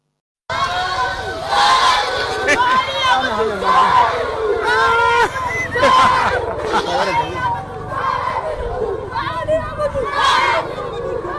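A large crowd gathered in Katsina for Buhari's burial, a loud dense mass of shouting and chanting voices with bursts of cries rising and falling throughout.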